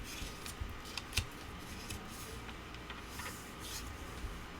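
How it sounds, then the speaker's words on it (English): Sheet of paper folded in half while making an origami butterfly, giving faint, soft rustles and light crinkling taps close by in a quiet room. "Let's bring the bottom edge to the top edge and fold this in half."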